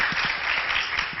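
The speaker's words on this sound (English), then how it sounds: "we should applaud for them." A school gala audience claps together in a dense, steady burst of applause, loud and sustained for a moment with no speech.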